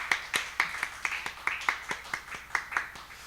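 A small church congregation at Sunday worship clapping to welcome a first-time visitor, a steady sequence of distinct claps at an even pace, fairly faint and slightly distant, with no talking.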